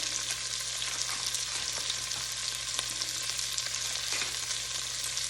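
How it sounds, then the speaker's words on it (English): Onions sauteing in a frying pan give off a soft, steady sizzle and crackle that runs unbroken throughout, quiet and close, with no talking. "I have been just kind of sauteing those onions a little bit"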